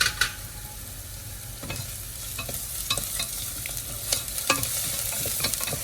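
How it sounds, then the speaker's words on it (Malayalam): Vegetables with turmeric powder are sautéed in a pan for a curd-based moru curry, a steady close sizzle broken by scattered scraping stir clicks. "ഇനി ഈ മഞ്ഞൾപ്പൊടിയുടെ പച്ച മണമൊന്ന് മാറുന്നത് വരെ നന്നായിട്ട് വഴറ്റി കൊടുക്കാം."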